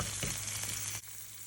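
Mealworms fry and crackle in a pan as salt goes in and they are stirred, a steady close sizzle with scraping that drops off sharply near the end.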